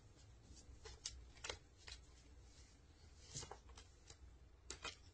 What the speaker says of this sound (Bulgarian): И така, разбъркваме картите.